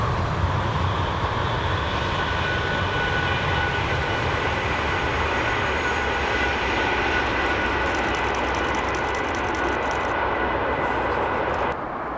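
A COP26-liveried Pendolino passenger train on the Euston to Glasgow Central service rushes past near Abington, a loud steady roar of wheels and traction lasting the whole stretch before cutting off abruptly.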